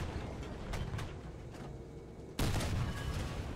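A Chi-Ha tank fitted with a 120mm naval gun fires one heavy cannon round in War Thunder. It is a single loud, sudden blast that erupts over a low engine rumble and stays as a dense, sustained roar.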